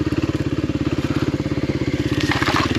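A Kawasaki KLX 300R dirt bike, geared with a 14/47 rear sprocket, lugs along a trail in second gear: a close, loud, evenly pulsing engine thump at a low, steady rhythm, with no talk.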